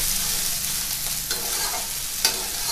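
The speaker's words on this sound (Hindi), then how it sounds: "इसे जो है आप चलाते रहेंगे तो चिपकेगा भी नहीं, बहुत आसानी से ये जो है तल के अच्छा निकल आएगा।" Soybean and gram flour curry stirred steadily in a pan over full heat, with a continuous close sizzle of frying and scraping spoon strokes, no voices.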